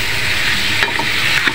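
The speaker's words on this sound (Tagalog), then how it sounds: "Ayan, sinangkot siya na natin ang hipon." Shrimp and tomato sautéing for sinigang in a pan, a loud continuous sizzle of frying with a few stirring scrapes of a utensil, close up and with no talking.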